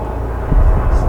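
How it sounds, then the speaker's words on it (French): A helicopter's low rumbling drone that swells louder partway through, with a rhythmic throb underneath, near an abandoned military base. "C'est un hélicoptère, c'est pas un avion."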